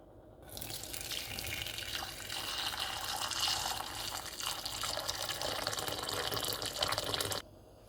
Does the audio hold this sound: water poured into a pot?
yes